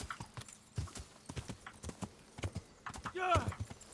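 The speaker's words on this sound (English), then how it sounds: "get back on the horse" Horse hooves clip-clop at a steady trot in the video game Kingdom Come: Deliverance, close and clear, running through the whole stretch with a brief whinny near the end and a voice talking over the top.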